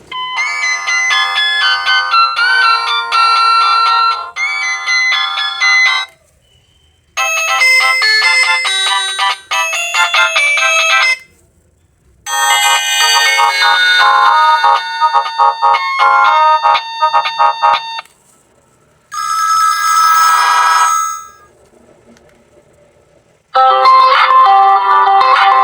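Benco GB 114 feature phone ringtones play one after another, bright electronic melodies in loud bursts broken by short silences, with no voices.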